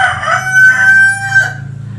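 A rooster crows once, loud and close, a long strained call that trails off, over a low steady background hum.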